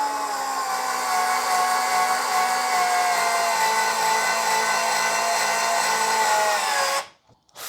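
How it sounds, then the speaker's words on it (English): Fanttik S1 Pro cordless screwdriver driving a 5/8 drywall screw: a steady, close whining motor hum with its pitch slowly sagging under load for about seven seconds, then stopping abruptly, followed by a faint click and no talk. "5/8 drywall screw"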